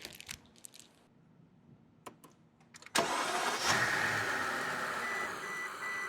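A Mercedes-Benz W221 S-Class sedan starts up after a few faint clicks and door sounds: the starter catches with a sudden loud whoosh and the engine settles into a steady, strong idle close to the listener.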